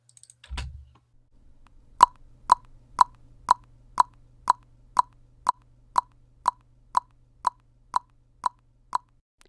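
A Soundtoys EchoBoy delay with the feedback turned up, repeating a short percussive click roughly every half second in a steady train of about fifteen evenly spaced echoes that fade only slightly, heard alone and fairly quiet.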